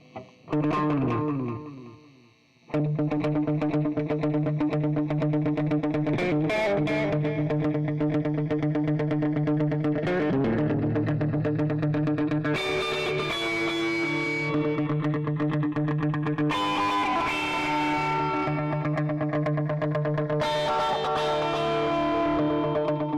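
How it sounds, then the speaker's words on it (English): Heavily distorted electric guitar chords ring out with shimmering chorus and echo effects, loud and sustained, after a brief clean opening; the distortion pedal is placed after the other effect pedals in the chain. "here's another clip with the distortion after these effects in the so-called wrong order"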